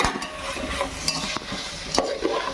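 Button mushrooms frying in a pan for spicy mushroom pulao are stirred vigorously, a constant sizzle punctuated by quick scraping strokes of a spoon against the pan, close and unaccompanied by speech.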